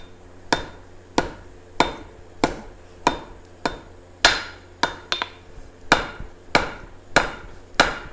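A hammer strikes 3/8 steel stock on an anvil while it is drawn out into a hook for a forged vine, about a dozen loud ringing blows at a steady, slightly uneven rhythm, close and alone.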